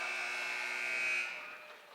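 A basketball arena buzzer sounds at the end of a girls' high school game between Salem and Lebanon, one steady loud electronic tone held for about a second and a quarter before it tapers away.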